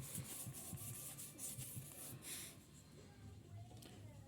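Sandpaper of 150 or 200 grit rubs steadily over wood on a homemade wooden bread board, a faint continuous scratchy hiss with slight rhythmic strokes in a quiet room.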